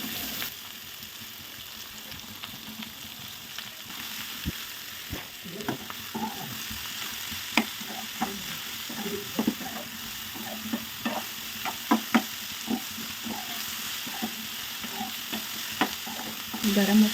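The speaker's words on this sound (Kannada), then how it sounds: "ಈ ಹೀರೆಕಾಯಿನ ಸೇರಿಸ್ಕೊಳ್ಳೋಣ." Ridge gourd stir-fried in a pan for a quick palya, with continuous soft sizzling and frequent scraping, clicking stirs of a spatula against the pan, moderately close with no speech.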